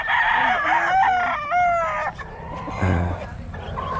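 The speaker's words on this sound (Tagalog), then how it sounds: "may nag-aalaga ng manok dito" A rooster crows loudly nearby where chickens are kept, a drawn-out cock-a-doodle-doo followed by softer clucking, heard outdoors without any speech.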